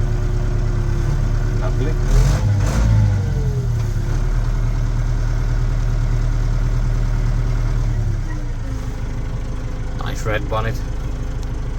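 A Case 844 XL Plus tractor engine idles steadily and loud, with the self-leveling loader hydraulics whining and shifting pitch as it works, while someone talks over it nearby.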